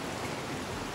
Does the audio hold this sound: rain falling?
yes